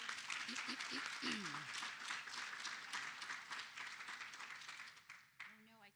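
Audience applause at a museum symposium, a dense wash of many hands clapping that fades toward the end as a voice starts speaking.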